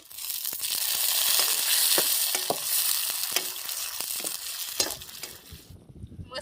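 Onion and tomato hit hot oil already holding chilies in a pan, giving a loud bright sizzle with scattered stirring scrapes and clicks, close and steady before abruptly dropping off near the end; cooking outdoors by a dam.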